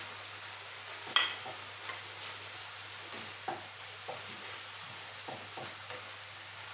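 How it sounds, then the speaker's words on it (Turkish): Quiet sizzling of diced onions sautéing with minced meat in a pan, with occasional scrapes and stirs of a utensil breaking the steady hiss. "Soğanlarımızın sotelenmesini bekliyoruz."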